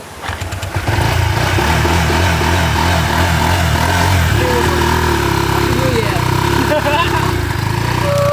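A motorcycle with no kickstarter is pushed and bump-started. Its engine catches within a second, then runs loud and close with a throbbing idle while people talk over it.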